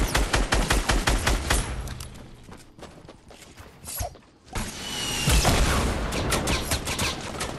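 Dense bursts of video game gunfire from a duo battle-royale match, rapid overlapping shots with heavy volleys at the start and again near the end, loud and close, with a quieter stretch of movement and clatter in between.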